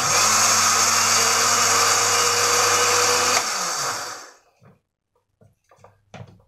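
A blender grinds cricket feed with a loud, steady motor whir for about three and a half seconds, then winds down and stops, leaving a few faint clicks and knocks.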